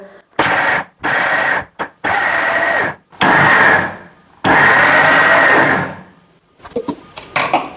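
A mixer grinder whirs loudly in several short bursts, grinding a coarse dosa batter with pauses between pulses before one longer run winds down.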